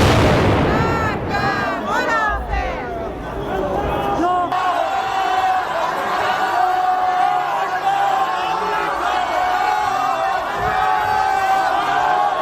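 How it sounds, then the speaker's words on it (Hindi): Loud, dense crowd noise with shouting and cheering voices at a street rally in Iran, a sudden explosion shifting the roar midway, then sustained chaotic crowd din. "रैली के बीच में जोरदार धमाका हुआ है"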